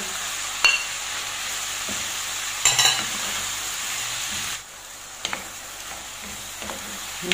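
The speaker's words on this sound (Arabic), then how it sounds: "هكذا مرة على مرة نقلب فيه حتى يتقلى مليح البصل والفلفل الحلو" Onions and sweet peppers frying in a pan while being turned now and then, a constant sizzling hiss punctuated by a few distinct scraping and clinking stirs, with no speech heard.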